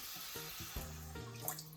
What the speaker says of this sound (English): I'm also going to go ahead and add half a cup of water